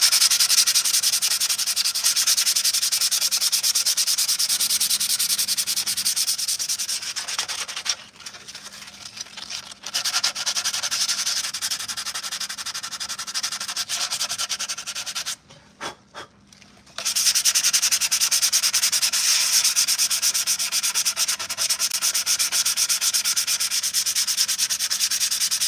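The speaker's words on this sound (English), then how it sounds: "this is a 220 grit sandpaper, and then I hand sand this at 220 to get it as flat as possible" Clone armor being hand sanded with 220 grit sandpaper makes a steady, close, rasping scrub that runs continuously, breaks off briefly twice, then resumes without any speech.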